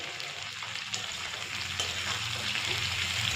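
Tomato and potatoes fry in a pan with a continuous close sizzle that swells slightly, along with light stirring scrapes.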